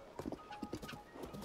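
Horse hooves clip-clopping in Zelda Tears of the Kingdom, a quick run of light irregular hoofbeats, close and fairly quiet, with a faint voice underneath.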